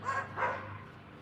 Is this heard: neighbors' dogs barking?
yes